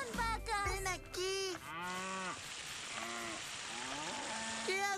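Cartoon cows moo repeatedly during a cattle drive, with long, loud, drawn-out lows overlapping one another close up against a busy animated soundtrack.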